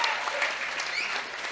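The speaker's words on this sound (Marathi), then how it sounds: "परत एकदा जोरदार टाळ्या झाल्या पाहिजे." An interview audience gives another round of applause for an elderly woman, a short, even patter of many hands clapping at moderate volume with faint voices underneath.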